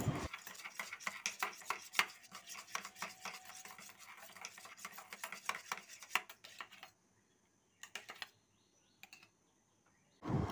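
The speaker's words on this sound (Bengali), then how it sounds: "আর এটাকে মেশাবো টক দই দিয়ে। দইয়ের সাহায্যে এটাকে ভালো করে মিশিয়ে নিতে হবে।" Coffee and sour yogurt are stirred in a bowl with a spoon, giving rapid clicking scrapes that run for several seconds, then slow to a few isolated taps separated by near silence.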